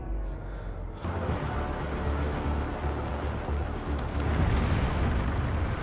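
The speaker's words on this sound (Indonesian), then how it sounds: "Melihat ledakan barusan" A film explosion on a bridge erupts after a quiet moment into a loud, sustained rumbling roar with deep low-end energy that continues without break.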